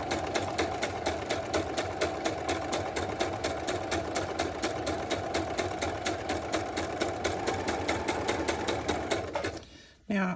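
A sewing machine stitches a handmade journal cover in a fast, even, mechanical chatter held close and steady, then stops abruptly just before the end.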